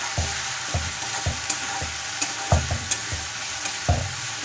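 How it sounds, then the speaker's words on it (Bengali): Onion frying in a pan: a steady sizzle broken by regular scraping stirs, close and moderately loud, with no one talking. "হালকা হালকা ফ্রাই হয়ে গেল পেঁয়াজটা"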